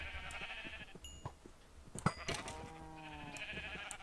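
Sheep bleat in the Minecraft video game, a few clear game-sound calls against quiet background noise with no voice over them.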